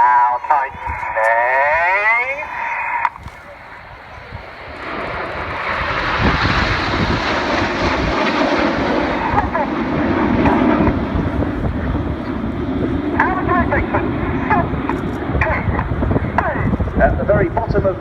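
Red Arrows BAE Hawk jets flying a tight formation display at the 2016 Cosford air show, a loud sustained roaring jet rush that swells and lingers with wind buffeting, while a commentator speaks over it.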